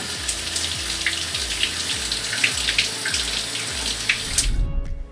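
Tap water runs and splashes steadily over a GPS dog fence collar, a close continuous gush with faint rhythmic pulses underneath, cutting off abruptly near the end.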